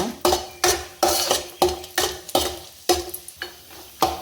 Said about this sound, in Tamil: திராட்சை நல்லா ரவுண்டாக வறுத்துங்க